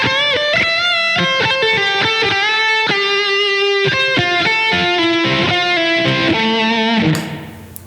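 An electric guitar plays a solo phrase, a run of distinct sustained and bent notes with a clean, lightly effected tone, loud and close with no talking, ending in a brief noisy release as the strings are damped.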